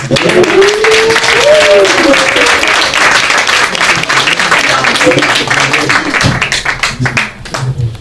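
A crowd applauds steadily throughout at a press cocktail reception at the Haitian consulate, broadband clapping filling the room while a voice speaks over it in French near the start.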